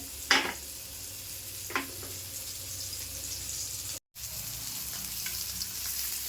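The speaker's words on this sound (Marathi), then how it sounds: "आता व्यवस्थित ना भाजून घेऊया" Mackerel (bangda) pieces frying in a pan for a goda masala fish curry, a continuous soft sizzle with a couple of brief utensil taps and a momentary dropout partway through.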